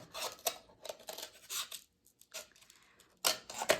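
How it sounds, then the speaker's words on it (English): Scissors cut around a paper cup in a series of quiet, crisp snips and crinkles, irregular bursts with a short pause in the middle, close by and alone. "So I'm going to take my scissors, and I'm going to cut around, and I'm going to cut all the way around the cup like this."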